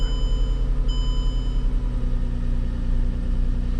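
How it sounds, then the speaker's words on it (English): A Toyota 4Runner engine with a misfire idles loudly up close with a steady low rumble and a slightly uneven, pulsing rhythm. "It's got a misfire though."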